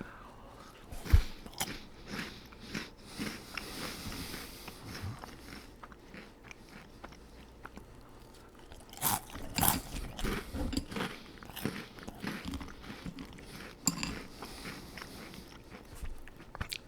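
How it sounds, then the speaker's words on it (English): Reese's Puffs cereal being chewed with the mouth closed, close and soft, giving a steady run of muffled crunches and bites with a few sharper crackles, no talking. "I'll talk with my mouth full, but I don't really like chewing with my mouth open."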